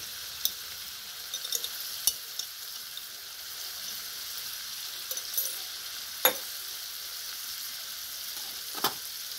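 Spices frying in hot oil with turmeric and chilli for a Bengali fish curry, a steady faint sizzle with occasional sharp clinks of a spoon stirring, no voices.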